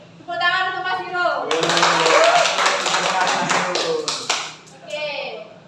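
A classroom of students breaks into applause for a classmate, a dense burst of many hands clapping that lasts a few seconds, with a teacher's voice speaking just before and after.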